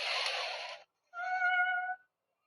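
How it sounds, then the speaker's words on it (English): Two meows with a short pause between them, close and clear. The second is longer and more tonal. No other sounds. "hearing what sounds like a cat meowing at their front door"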